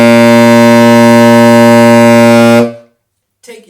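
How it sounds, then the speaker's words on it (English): A saxophone holds a single low C, loud, rich and buzzy, for about two and a half seconds before it cuts off into silence, followed by a brief faint sound. "Start with playing a low, fat C."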